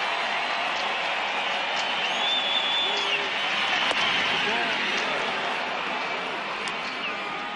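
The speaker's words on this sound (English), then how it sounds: "And this crowd is trying to get back into it." A baseball stadium crowd at the 2007 World Series, Game 3 in Colorado, Red Sox against Rockies, roaring and clapping in a broad, sustained wash, distant and steady with a few sharp claps or whistles poking through.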